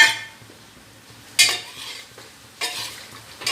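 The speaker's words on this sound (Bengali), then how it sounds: "ঢাকা দিয়ে দেবো।" A lid set onto a pot of vegetables simmering in water, with a couple of sharp metallic clanks between quiet stretches of faint bubbling, no voices.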